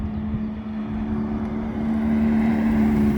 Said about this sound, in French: F430 Spider qui arrive.